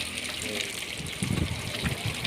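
Water gushes steadily into a container, a continuous rushing splash with a voice talking over it partway through.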